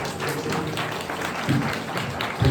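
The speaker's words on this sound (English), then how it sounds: "Please hold applause" An audience claps at a Los Angeles council district candidate forum at Ramona Hall, moderate scattered applause with a few louder low thumps near the end, no talk over it.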